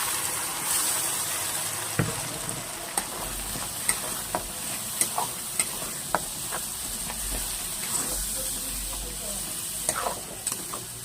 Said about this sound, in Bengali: পেঁয়াজটা ভাজা হয়ে গেছে, এবার দিয়ে দেব করে রাখা মশলাটা